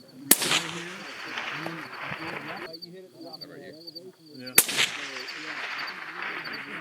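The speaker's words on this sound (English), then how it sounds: "I'm still pretty impressed with how quiet this titanium can was for being titanium and from Surefire with a bolt gun" Two sharp suppressed cracks from a Barrett MRAD bolt-action rifle fitted with a titanium Surefire suppressor ring out several seconds apart outdoors, with voices talking in between.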